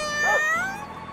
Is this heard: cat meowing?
yes